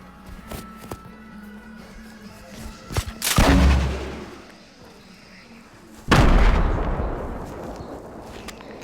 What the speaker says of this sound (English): today I am going to be trying to shoot my rocket launcher in Creative through all these windows